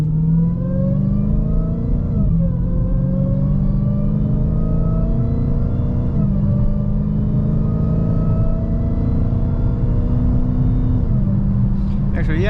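A 2022 Dodge Challenger Hellcat with 717 hp pulling hard in drive, engine roaring loud and steady as revs climb, with the automatic transmission shifting up several times and the pitch dropping at each shift.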